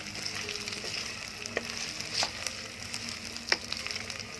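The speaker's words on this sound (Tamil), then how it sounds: "உரித்து வச்ச பூண்டு சேர்த்து எண்ணெயில் பொன்னிறமாக வதக்குறேன்." Peeled garlic fries in hot oil for a Chettinad prawn gravy, a soft continuous sizzle broken by a few sharp stirring clicks and scrapes, fairly quiet and close with no voices.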